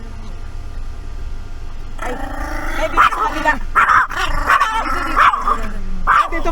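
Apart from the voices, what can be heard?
dog barking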